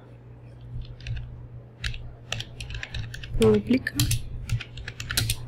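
Keys clatter on a computer keyboard in quick, uneven bursts while a lesson on laying out a public square plan in AutoLANDSCAPE and VisualPLAN proceeds, with someone talking over the clicks throughout.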